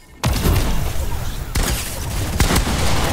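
A gravity grenade goes off in a video game with a sudden heavy boom, followed by a dense roar of blasts and gunfire with sharp bangs near 1.5 and 2.4 seconds, loud and continuous.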